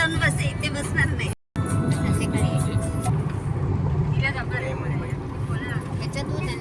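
A car carrying passengers to a wedding in Virar moves along slowly, giving a steady close rumble of engine and road noise that runs under ongoing conversation, with one brief dropout.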